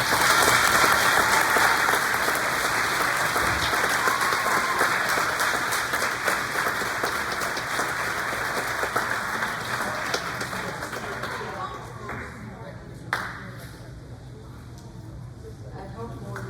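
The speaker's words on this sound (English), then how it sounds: "Can you give them a big round of applause?" An audience at a school sports banquet gives a big round of applause, dense clapping that is loud at first and slowly thins out over about twelve seconds, with crowd chatter underneath.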